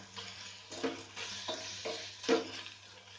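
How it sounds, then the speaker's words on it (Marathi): Prawns sautéing in a hot pan for a Goan prawn curry: a steady sizzle of frying runs throughout, broken by a few louder scrapes and stirs of a spoon against the pan, close and fairly quiet. "तातूंत सुंगटां घातल्या, सुंगटां घालून आमकां मातशें परतून घेवपाक जाय"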